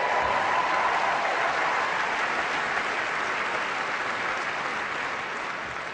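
A packed crowd at the Royal Albert Hall in London applauds after a tennis exhibition match, a dense, steady wash of clapping that fills the hall without a break and fades only slightly toward the end.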